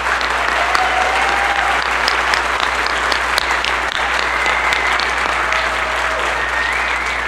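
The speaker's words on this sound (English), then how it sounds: "Can we give them another round of applause, please?" Audience applause for a student honor band at a regional band clinic, a loud, sustained crowd clapping with scattered individual claps standing out, steady for the whole stretch.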